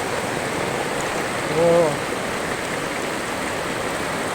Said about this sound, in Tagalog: Malakas ang alon ng tubig.